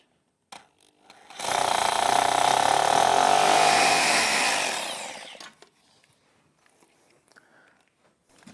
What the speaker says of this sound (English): ready to drill the bottom track using a 6mm masonry drill bit